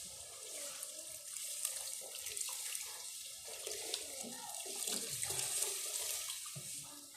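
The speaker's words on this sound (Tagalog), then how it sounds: "Lagyan natin yung tubig." Water pours steadily from a faucet into a soup pot during home cooking, a continuous close splashing and running-water sound with no talk.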